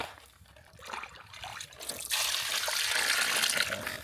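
Hot water is poured over raw chicken to wash it, a rising trickle that builds into a steady, close rush of splashing water for the last couple of seconds.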